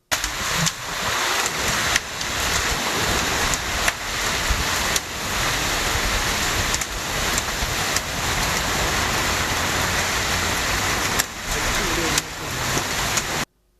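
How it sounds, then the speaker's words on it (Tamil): Heavy rain mixed with hail pours down in Ettayapuram, Thoothukudi district, Tamil Nadu, making a loud, steady broadband roar that runs unbroken for the whole stretch, with brief dips in intensity. "தூத்துக்குடி மாவட்டம் எட்டயபுரத்தில் ஆலங்கட்டியுடன் கூடிய கனமழை பெய்தது"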